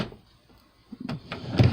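A kitchen drawer of miscellaneous hardware slides open, with a few light knocks and a scraping rattle building to a sharper bump at the end, close and alone.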